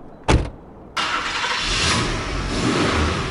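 A car engine start sound effect from the Zombicide board game app: a brief cranking burst, a pause, then the engine catches and settles into a loud, steady running roar, with no talking.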